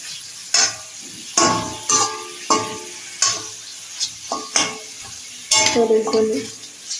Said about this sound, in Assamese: কেৰাহীটো গৰম হোৱাৰ পাছত অলপমান ভাজি লৈছোঁ